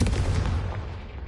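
A Confringo spell explosion in Hogwarts Legacy erupts as a loud, full booming blast that rumbles and slowly fades over about a second.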